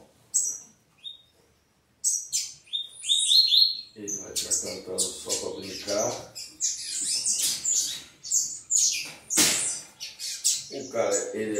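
A caged bird chirps and squawks in short bright bursts, some close and loud, with a few quieter gaps between calls.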